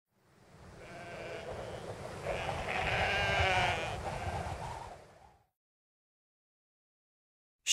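A sheep on a farm gives one long, wavering bleat that swells and fades over about five seconds. It is close and clear, followed by silence.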